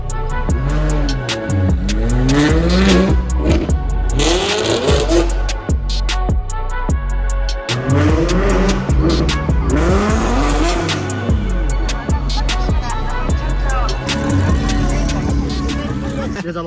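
A loud wide-body Ferrari cruising the busy streets of Shibuya, Tokyo, its engine revving hard in repeated rising bursts with sharp gear changes, close and dominant throughout.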